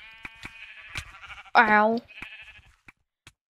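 Sheep bleating in Minecraft on the Mineplex server, one short wavering bleat in the middle alongside scattered game clicks and a brief voice.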